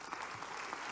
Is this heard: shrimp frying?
no